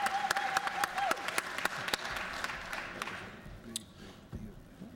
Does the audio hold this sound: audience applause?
yes